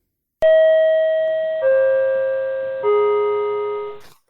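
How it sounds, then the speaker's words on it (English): A subway chime sound effect plays three descending bell-like tones in sequence, each ringing out and decaying before the next, loud, clear and alone. "Subway chime, go!"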